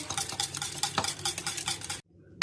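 Steady scraping and swishing of a spoon stirring a thick yogurt sauce in a bowl, close up, ending abruptly into near silence.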